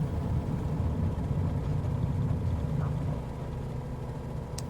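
A light aircraft engine at full throttle in Microsoft Flight Simulator 2020 makes a steady, dense, low drone that holds level with no talk, then eases slightly softer near the end.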